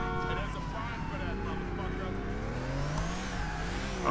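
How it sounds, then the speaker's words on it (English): A Ferrari engine in the video game GTA 4 revs and accelerates, its rising and falling harmonic whine steady and fairly close, running alone for several seconds before a brief surge at the end. "this is a Ferrari."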